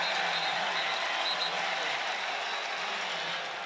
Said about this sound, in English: Texas State crowd cheering as if they saw something from the stands